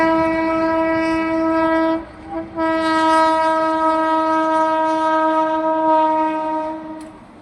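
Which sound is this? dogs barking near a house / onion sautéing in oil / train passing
train passing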